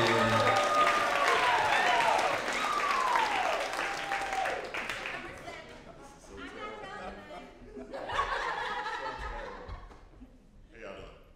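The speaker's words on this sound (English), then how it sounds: "Keep on clapping, he's almost here." A live storytelling audience claps and laughs as a performer walks on stage, dense clapping with chuckles over the first half, then thinning while a voice speaks over the fading applause.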